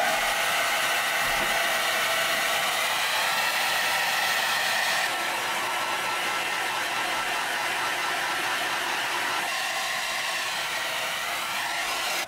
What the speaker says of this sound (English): I just kind of blow it around with the blow dryer